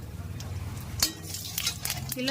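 Cumin seeds hitting hot oil in a pan while shrimp-based curry with yam is being cooked, giving a soft steady sizzle with a sharp clatter of utensil against the pan partway through.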